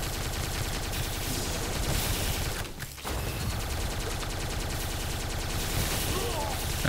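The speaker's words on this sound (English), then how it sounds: "Rapid Tesla gun." Rapid-fire Tesla gun in the video game Tesla vs Lovecraft, a dense, continuous stream of electric gunfire and impacts that barely pauses for a moment midway before resuming at full loudness.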